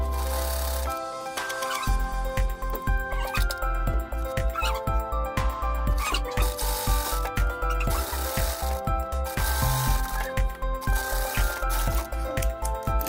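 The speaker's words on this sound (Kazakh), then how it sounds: "Қазір мына жерде төрт жақ шетінен тігіп өтіп шығамыз." A domestic sewing machine runs in quick bursts, its needle clattering rhythmically as it stitches around all four edges of three layers of fabric for a homemade medical mask, close and steady with brief pauses.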